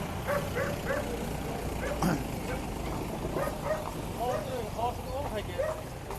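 Puppies bark and yip in short, repeated bursts at the Maghi horse fair in Sri Muktsar Sahib, with a loud fair crowd and talk all around.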